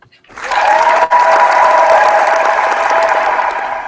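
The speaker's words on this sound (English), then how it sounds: "let's give all the winners a round of applause for in Davis Cup" Loud, sustained applause mixed with cheering from a crowd, saluting the Davis Cup winners on a tennis podcast. It swells in after a short silence and holds at a steady level throughout.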